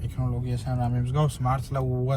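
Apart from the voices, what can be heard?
No everyday noise stands out behind the speech.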